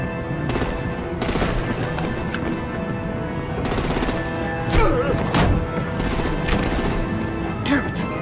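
Artillery gunfire in a Batman animated film, with rapid bursts of shots and heavy impacts in uneven clusters over a loud, busy action score, some thuds standing out near the middle.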